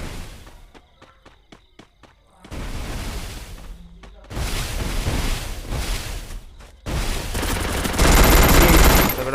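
Gunfire in the Free Fire video game during a 1v1 match, with bursts of rapid shots, footsteps and loud, dense firing that builds toward the end.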